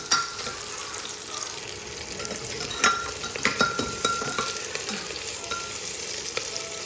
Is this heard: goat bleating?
no